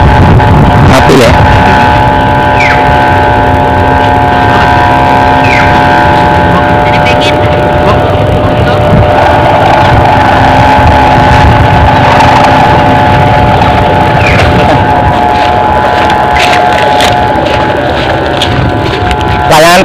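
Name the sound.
kite's humming noisemaker droning like a motor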